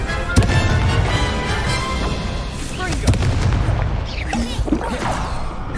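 Confringo fire spell blasts in the Hogwarts Legacy video game come as repeated heavy booms over a dense, constant wash of combat noise and music.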